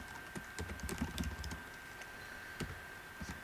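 Someone types on a computer keyboard, a quick close run of soft key taps followed by a few scattered presses, against a low steady background hum.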